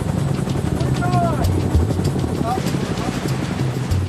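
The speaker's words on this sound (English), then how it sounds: "The wounded are taken off in the first Chinook." Chinook helicopter evacuating wounded soldiers, a loud continuous rotor and engine roar filling the scene, with a narrating voice over it.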